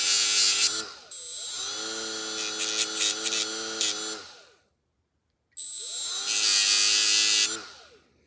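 A bench grinder or rotary tool grinds the edges of a small metal terminal tool in two loud buzzing passes of a few seconds each, with a short silent pause between them and the whine dropping as the motor spins down.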